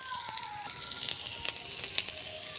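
Spices sautéed on low heat in oil for a Bengali potol and potato curry with tilapia give a quiet, steady sizzle, scattered with small crackles and pops.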